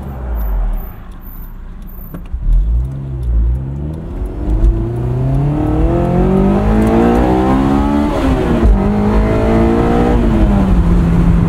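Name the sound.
2003 Honda S2000 engine revving with UK exhaust mod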